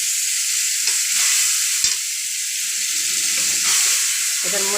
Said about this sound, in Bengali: এখন তো পেস্ট করা মশলাটা দিয়ে দেবো।